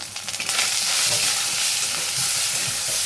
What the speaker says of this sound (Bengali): এবারে বাটা মশলাটা দিয়ে দেবো। ভালো করে নাড়াচাড়া করবো।